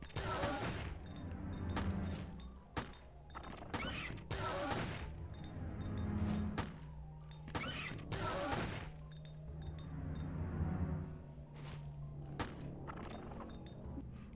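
Repeated 9mm handgun shots in the Dino Crisis video game crack out in clusters, loud and close, with short gaps between bursts and game sounds in between.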